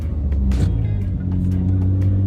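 A Mitsubishi GTO VR4 sports car accelerates with a steady, loud, close engine drone and rising rumble, heard alone without talk.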